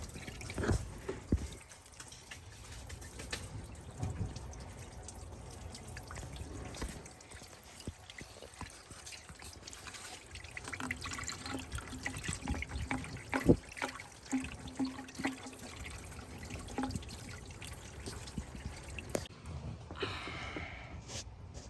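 Coolant drains from the side of the engine on a 2013 LML Silverado Duramax during a thermostat replacement, a steady nearby trickle and splatter of liquid that runs on throughout.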